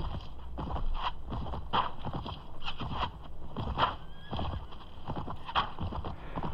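Horses in a Mount & Blade (Prophesy of Pendor) battle: rhythmic hoofbeats of galloping, broken by several sharp whinnies, all fairly faint and without talk.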